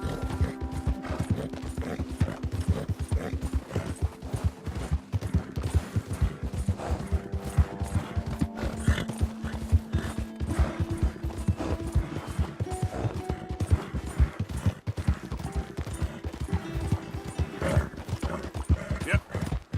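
Steady clip-clop of horse hooves trotting at a brisk, even rhythm over a music bed in the video game Red Dead Redemption II, with a voice talking over it.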